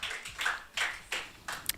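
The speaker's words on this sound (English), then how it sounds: "So please give them applause." A small audience at a live reality TV show applauding contestants, heard as a handful of distinct, fairly loud claps spaced about a third of a second apart rather than a full crowd roar, with no voices.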